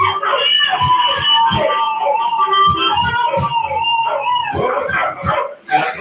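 A dog howls and gives short barks along with a harmonica on a call-in radio show, the wavering howls and yips sitting close and loud under overlapping talk.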